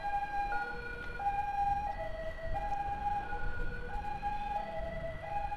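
An ambulance siren wails steadily while escorting a patient in Bandung, Indonesia, its two-tone cycling pattern loud and close over low road rumble, with no one talking.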